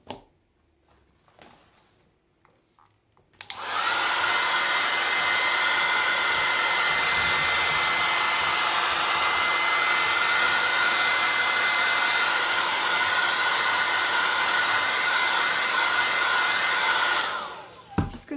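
A hair dryer dries painted rice paper: after a few seconds of quiet handling it switches on, roaring with a steady loud whoosh for about fourteen seconds, then cuts off.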